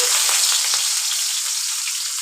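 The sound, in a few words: chopped onion frying in hot mustard oil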